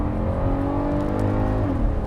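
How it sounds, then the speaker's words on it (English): The VR6 engine of a 2019 VW Atlas 4MOTION accelerating hard, a steady loud rising engine drone heard from inside the cabin, with the pitch climbing and then shifting near the end as the gear changes. "it kind of sounds pretty good because it's a VR6"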